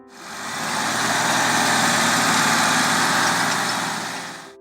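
A Ford 8600 tractor engine running steadily, a loud, even diesel drone that fades in, holds constant, and eases off at the end, with no voices.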